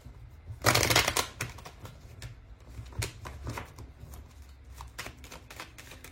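Tarot cards being shuffled close by, a dense papery burst of riffling near the start followed by scattered softer shuffles and taps, alone without talk.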